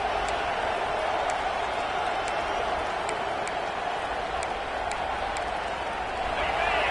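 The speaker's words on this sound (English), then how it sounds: "this crowd coming to life here trying to help the defense get a stop" A college football stadium crowd at an Arizona State versus Nebraska game roars in a dense, steady wall of cheering that holds at a constant level and swells slightly at the end.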